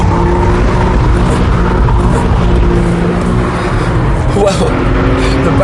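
A Porsche 911 of the 997 generation is driven hard around a wet, greasy track, its engine a loud continuous roar with tire and road noise, while someone talks over it.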